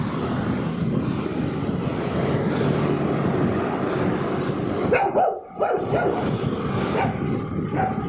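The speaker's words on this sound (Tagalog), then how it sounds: "Bakit pag bike galit na galit ang mga aso?" Dogs bark repeatedly at a passing motorcycle over its loud, steady engine drone, the barking coming in bursts through the noise.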